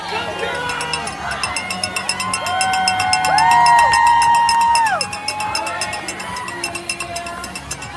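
A crowd cheers and whoops at a marathon finish line as a runner crosses, loud sustained roaring with rising shouts and whistles in the middle, then easing back to a busy hubbub.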